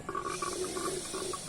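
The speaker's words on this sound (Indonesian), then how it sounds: "Itu suara udara atau suara air? Itu air ya." Water gurgling and bubbling through a pipe in a burbling, uneven rhythm over a steady hiss, close by.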